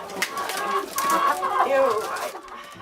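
Several chickens cluck and warble close by, overlapping in a busy, chattering flock with some sharper calls.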